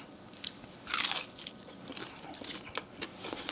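Crunchy homemade fried chicken, dipped in a Cane's-style sauce, bitten into close up, giving a loud crackling crunch followed by several smaller crisp crunches while chewing, with no talking.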